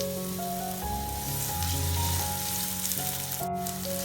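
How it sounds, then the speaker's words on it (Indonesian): Garlic and onion sauté in hot cooking oil in a pan, a steady close sizzle and crackle heard under background music, with a brief sharp clatter near the end. "panaskan minyak goreng. Tumis bawang putih dan juga bawang bombay."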